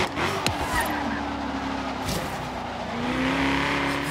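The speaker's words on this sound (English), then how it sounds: "That's a nice drift, though." Car drifting in the racing game Forza Horizon 3, a Chevy or Ford modern muscle car, with a steady engine whine and a rising tire squeal running continuously and close.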